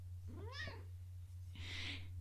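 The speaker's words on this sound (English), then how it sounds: "my cat just came and said meow" A house cat gives one short, clear meow, followed by a brief breathy sound, against a quiet room with a steady low hum.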